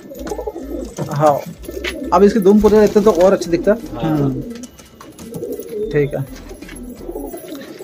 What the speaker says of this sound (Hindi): रामपुरी कबूतर है, रामपुरी कबूतर है